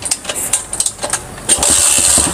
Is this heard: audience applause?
no